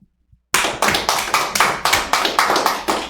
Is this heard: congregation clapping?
yes